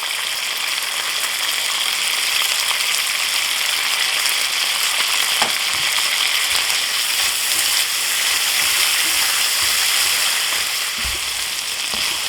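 Shrimp with chipotle adobo paste sizzling steadily in a pan, a constant bright hiss of frying oil with occasional faint pops and utensil taps, close and continuous with no talk.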